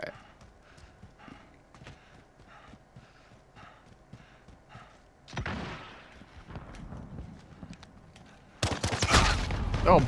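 Origin 12 shotgun fire in Call of Duty Modern Warfare hardcore multiplayer: after soft steady footstep-like clatter, a loud blast bursts out midway, then another heavy, sustained burst of gunfire closes the stretch.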